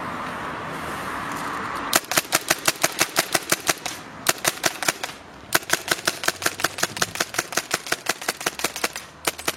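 A hose-fed, pressurized airsoft replica gun fires rapid sharp snapping rounds in regular bursts, crisp and close, with brief pauses between strings of shots and a hissing air sound before firing starts.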